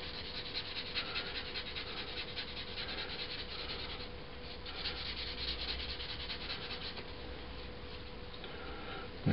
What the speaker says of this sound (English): I'll go to one of my finer sanding sticks now.